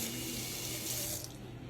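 Water runs steadily from a tap into a sink, a continuous hiss with no voices, then it thins out and fades near the end as it is shut off.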